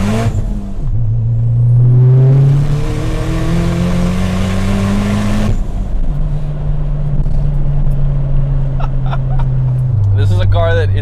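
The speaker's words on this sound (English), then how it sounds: "I keep hitting limiter." A Dodge Caliber SRT-4 running a naturally aspirated block revs hard and bounces off the rev limiter, with rising engine tones, a sustained high-rpm drone, then a second held pull and crackle near the end; loud and close.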